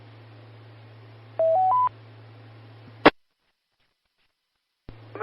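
Short sequence of DTMF telephone keypad tones sent over a Richardson amateur radio repeater, three quick beeps above a steady carrier hum, then a sharp squelch burst, silence, and the carrier returning.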